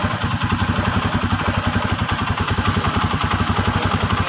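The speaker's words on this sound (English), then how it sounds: "Yung ingay ng makina na to." A motorcycle engine idles up close with a fast, even, rattling pulse, loud and steady throughout, no speech over it.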